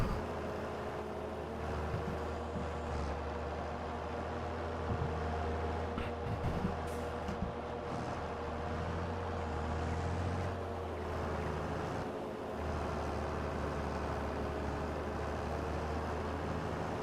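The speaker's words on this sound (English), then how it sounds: "Nice working speed with this this mower and the Valtra." A Valtra tractor pulling a mower works a field in Farming Simulator 22, its engine a steady, even drone with a low hum running throughout and no talk over it.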